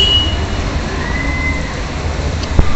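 Steady heavy rain pours down as a dense, continuous wash of noise, with a single brief knock near the end and no talking.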